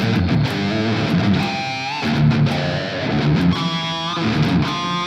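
Fender American Standard Stratocaster played through heavy distortion, a dense, continuous stream of gritty chords and notes with short rhythmic stabs and sliding lines, loud and close with no voices.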